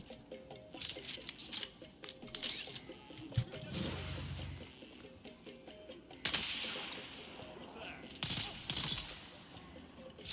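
Gunfire in the survival game Dune: Awakening, bursts of sharp shots scattered through the clip at moderate distance, with a few louder cracks around the middle and later, mixed with other game noise and occasional voice.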